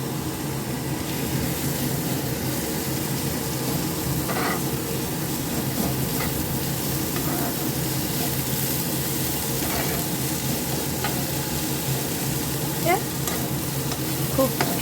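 Chopped tomato tossed in with dried fish (shutki) frying in a pan, a dense steady sizzle with continual stirring and a few scrapes, close and fairly loud, no voices.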